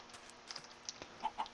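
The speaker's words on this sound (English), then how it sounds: "We'll also kill a couple of chickens." Chickens in the Minecraft modpack Attack of the B-Team give a few short, soft clucks, spaced irregularly and growing slightly louder near the end over a quiet game background.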